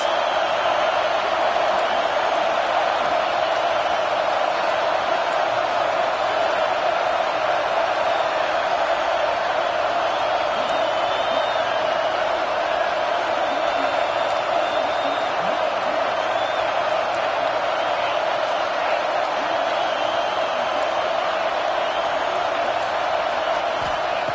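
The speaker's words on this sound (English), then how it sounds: "Listen to this crowd just shaking the girders of this place, trying to help their defense." Football stadium crowd roaring in support of the home defense, a dense sustained wall of cheering and noise heard from within the stands, steady and loud throughout.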